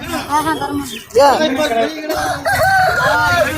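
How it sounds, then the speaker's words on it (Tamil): Roosters crow at a busy rooster market in Kunnathur, Tirupur, calls rising over the loud chatter of people talking nearby, with more crowing in the background. "தென்னிலையிலிருந்து அருமையான பெருவற்ற சேவல் ஒன்று வந்திருக்காங்க"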